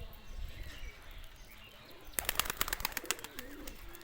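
Racing pigeons cooing at a home loft, soft murmuring coos with a run of sharp wing claps or flapping bursts midway, close by and with no talk.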